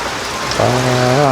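Loud, steady rain fills the whole stretch, and a sustained droning tone rises over it for the second half.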